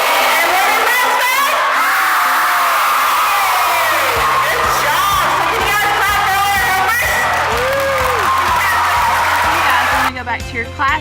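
Children cheering and yelling along with Ollie the mascot, a loud crowd of high voices whooping and shouting in bursts, with an adult voice speaking among them and a sudden cutoff near the end.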